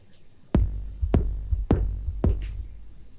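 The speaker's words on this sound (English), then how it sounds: "I think this is a nice bass drum." Synthesized bass drum layered from three parts, four punchy deep hits spaced about half a second apart, each with a sharp click and a booming low tail, alone and fairly loud.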